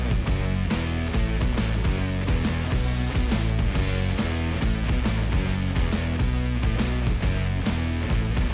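A tool backing out torque screws from a batwing fairing on a 1990 Harley Fatboy Softail makes loud, rapid, repetitive mechanical clicking and ratcheting that runs continuously and close, with no talk.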